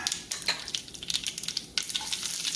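Mustard seeds, fenugreek and spices fry in hot coconut oil for a Kerala curd curry, making a bright crackling sizzle with quick popping bursts close up. No one speaks.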